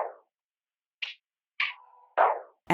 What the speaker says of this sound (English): I went into Splice and found this perk loop that I liked